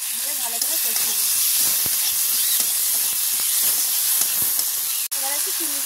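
Garlic, ginger and cumin paste frying in a pan while cooking a banana-stem kofta curry, giving a steady, close broadband sizzle and hiss that runs throughout, with a brief dip near the end.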